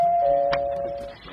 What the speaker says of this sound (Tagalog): Uy, may nag-doorbell man.